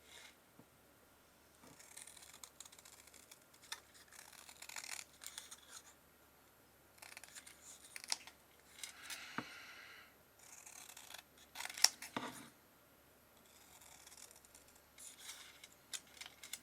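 Scissors cutting paper for a handmade vintage roses card, with quiet crisp snips in short bursts separated by pauses, close and faint.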